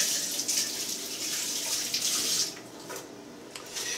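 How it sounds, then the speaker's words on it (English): Hands are washed under a running kitchen tap, a steady close rush of water that thins and becomes patchier toward the end as the hands move in and out of the stream. "Let me wash my hands real quick."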